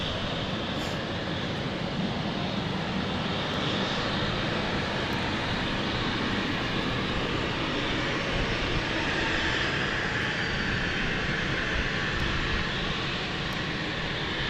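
A small Embraer jet at London City Airport produces a steady, broad engine roar that fills the whole stretch at moderate distance, unbroken and without talking.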